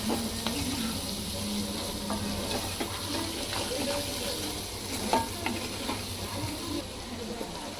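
Prawns cooking in a pan with fenugreek powder and garam masala, stirred with a steady sizzle and scraping clinks of a spoon, close and continuous, with faint background voice.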